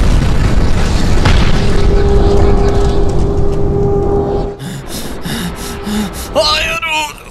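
A bomb going off in a skibidi toilet animation, a loud sustained rumbling blast that fades out, followed by quieter gasps and whimpering voices.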